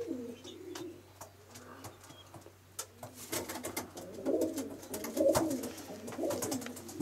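Racing pigeons in a loft, soft repeated cooing from several birds, fairly close and quiet, with light rustling and a few clicks.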